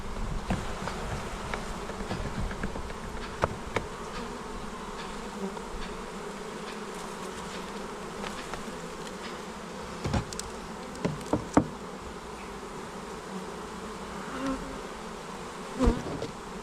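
Honeybees from a well-populated hive buzz continuously during an early-season hive inspection, a steady close drone with occasional sharp knocks and taps from the frames and hive parts, and no speech.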